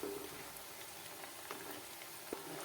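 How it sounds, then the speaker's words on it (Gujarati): Moong dal farsi puri frying in oil on low gas, a quiet, steady bubbling sizzle with a few small pops and clinks, no voices. "હવે આપણે ફરસી પૂરીને પલટાવતા જઈએ અને ધીમા ગેસ ઉપર તળી લઈએ"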